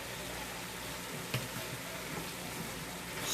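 Sautéed vegetables and garlic sizzle in a pan for chunky spaghetti, a faint, even frying hiss with a small clink partway through and no voice.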